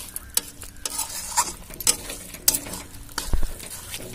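Prawn curry masala stirred in a pan at home, soft scraping strokes over a low sizzle with several sharper spoon knocks against the pan, close and fairly quiet, no talk.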